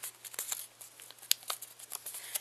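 Paper folded into an Easter bunny crinkles and rustles softly at close range, with quick small crackles and one sharper crease sound partway through.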